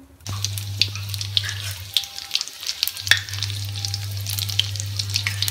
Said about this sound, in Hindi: ये मैंने डाल दिया फ्राई होने के लिए